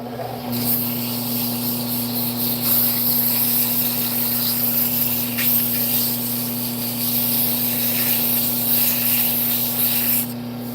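Sanding a wooden yoyo turned from firewood on a lathe with 240 grit sandpaper, producing a steady close hiss and rub over a constant motor hum, continuous for about ten seconds before stopping.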